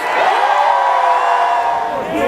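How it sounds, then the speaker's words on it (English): A large crowd cheers and whoops at a Baltimore Ravens send-off rally, a loud, sustained roar of voices with shouts rising above it throughout. "How about a Ravens round of applause for the Baltimore Ravens cheerleaders?"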